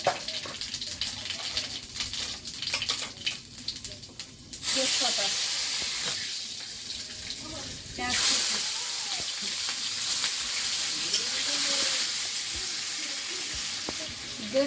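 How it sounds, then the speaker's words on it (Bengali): Panch phoron spices crackle and sizzle in hot oil, starting in bursts after a quieter stretch, then settling into a steady loud hiss with light stirring noises. "তেলে একটু পাঁচ ফোড়ন দিলাম"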